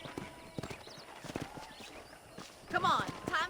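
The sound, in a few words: horse walking in the video game Red Dead Redemption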